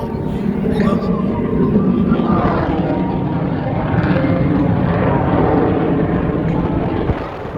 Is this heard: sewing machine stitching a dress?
no